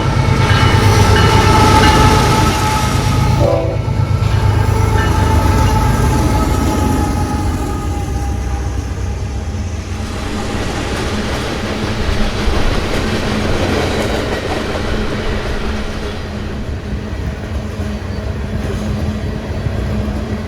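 A Union Pacific freight train of tank cars rolls past on an inbound line toward Chicago, a loud, steady rumble and clatter of wheels on rail that carries on throughout with no let-up.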